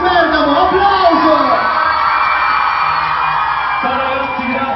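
Crowd of fans at an instore tour event in Bergamo, cheering and shouting loudly in a dense continuous wash, with a voice calling out over it.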